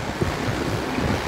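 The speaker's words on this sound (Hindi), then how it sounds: "बादल है, हवा चल रही है," Wind blows outdoors in Colombo on a cloudy day, a steady broadband rush buffeting the microphone throughout, loud and close with no voices.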